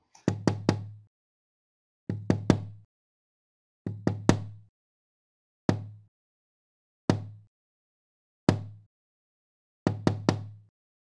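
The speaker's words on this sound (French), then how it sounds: "Elle frappe à la porte" Someone knocks on the wooden door of a small house in a forest. Loud, close knocks come in clusters of two or three, separated by silent pauses, and repeat about eight times, with no voices.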